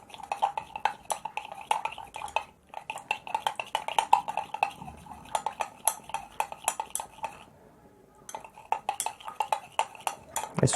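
A mixture is stirred by hand for a chemistry practical, a utensil knocking and scraping against its container in quick, rapid clinks that run almost without a break and pause briefly twice, close and clear with no talk.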